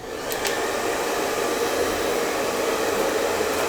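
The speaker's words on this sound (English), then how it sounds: "What helps you do that is using a nozzle on the end of your dryer." Hair dryer fitted with a nozzle blowing on hair, a loud, steady close whoosh throughout with no pauses.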